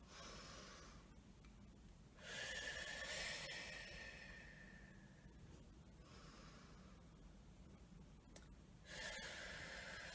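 Slow, deep breaths are drawn in and let out during an energy exercise routine, airy and close, each breath stretching over a few seconds in a quiet room.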